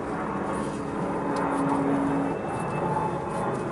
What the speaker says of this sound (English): I think you can hear the airport overhead.